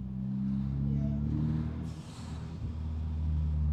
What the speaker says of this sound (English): That little blow-off valve.